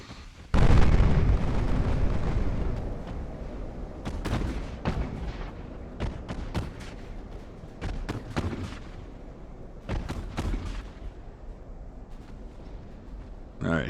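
Heavy warship main guns fire in the naval battle game Ultimate Admiral: Dreadnoughts, a sustained barrage of loud booming blasts in irregular clusters over a rumbling low background.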